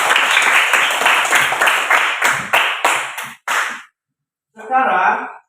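A classroom of students clapping together, a loud burst of rapid overlapping claps that thins into a few final sharp claps, stops, then gives way to a short voice.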